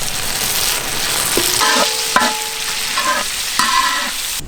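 Chopped tomatoes dropped into a butter-based spicy gravy sizzle and fry steadily in a pan, with stirring scrapes and a few sharp clinks over the continuous hiss, no voices.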